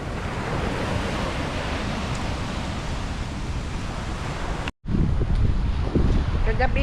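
Big sea waves stirred up by a typhoon, crashing beside coconut palms: a loud, steady roar of surf with wind buffeting the microphone, briefly cut off, then resuming close and heavy.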